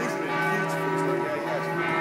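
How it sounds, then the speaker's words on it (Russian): Church bells ring on St. Mark's Square in Venice, a steady sustained peal of overlapping tones that fills the whole stretch at a loud, even level. "6 часов звонят колокола на площади Сан-Марко"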